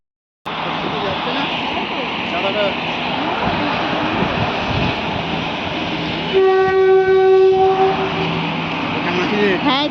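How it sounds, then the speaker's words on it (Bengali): A train pulls out of a station past a level crossing with a loud, continuous rumble of wagons, and a long horn blast sounds midway through. "স্টেশন থেকে ট্রেন তো বেরিয়ে পড়েছে"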